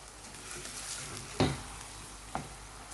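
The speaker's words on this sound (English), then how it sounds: "add the 1 full tablespoon of ginger and garlic paste, and then just stir that in" Ginger and garlic paste fries in a pan with a soft, continuous sizzle. Two brief scraping knocks from stirring stand out.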